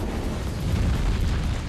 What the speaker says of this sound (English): with a loud bang, Johnson's car parked outside the police station was blown up on the spot